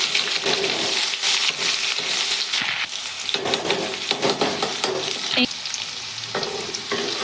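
Finely chopped garlic and ginger fry in hot oil in a pan for a winter dal, giving a steady, close, loud sizzle with occasional stirring scrapes and clatter throughout, with no talking.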